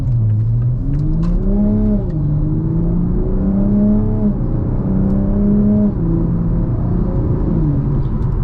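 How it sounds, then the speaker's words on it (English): A Toyota Supra MK5 with its B58 engine pulls hard in normal mode, revs rising and dropping smoothly as the 8-speed ZF gearbox shifts up several times, the steady engine tone loud and close throughout. "Trans is shifting like butter. That 8-speed ZF is fantastic."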